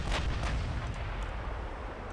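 Artillery salvo in a Byzantine Empire strategy game: a couple of heavy booming shots in quick succession at the start, then a rumbling decay fading into quieter background.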